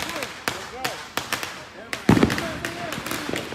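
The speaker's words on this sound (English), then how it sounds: "they're still shooting off fireworks over here" Outdoor fireworks pop and crack in a rapid irregular series of sharp bangs, with one bigger crackling burst in the middle. People talk underneath.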